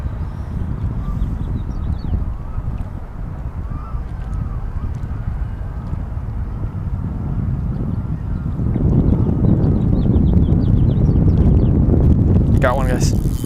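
Steady wind blowing across open water during boat fishing on Mission Bay, a continuous rushing roar that strengthens partway through, close buffeting on the microphone.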